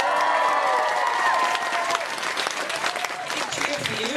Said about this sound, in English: I think you should just do another big cheer for the panel